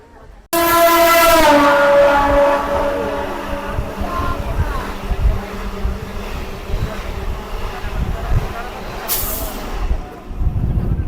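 A local commuter train near Ranaghat sounds a loud horn at the start, then runs on with a rumbling, clattering roll over the rails, with a short hiss of air near the end.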